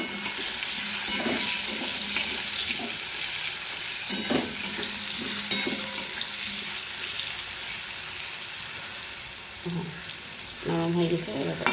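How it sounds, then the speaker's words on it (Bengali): Pumpkin frying in a pan at home gives a steady sizzle throughout, mixed with faint clinks of utensils and a few brief kitchen knocks; no talk is heard. "কুমড়ো ভাজা চলে এসেছি।"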